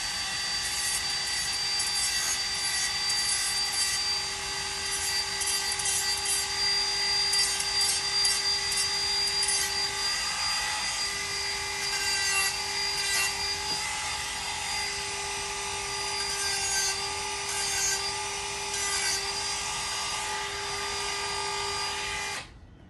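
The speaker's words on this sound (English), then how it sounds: "let's sand that guy real quick" A power sander works steadily on an IWB holster for a Sig P320 XCarry compact, giving a continuous high whining drone with a sustained tone and gritty abrasive hiss, loud and close, ending abruptly.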